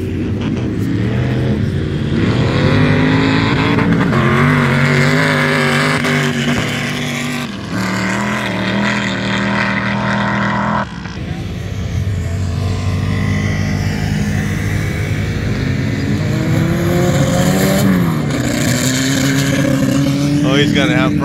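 Sand drag vehicle at Glamis accelerating hard in first gear, a loud sustained engine roar with rising pitch that dominates throughout, with people talking and cheering beneath it.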